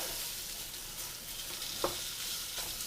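Sausage and garlic frying in a pan, a continuous bright sizzle with an occasional scrape or stir, close and moderately loud, with no voices.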